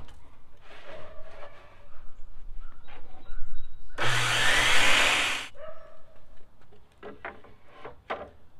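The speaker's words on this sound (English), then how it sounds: "I'm gonna set the saw to my 45 degree angle and I'll cut that." A saw cuts door trim at a 45-degree angle in one loud, close burst lasting over a second. Quieter knocks and handling sounds of the trim come before and after the cut.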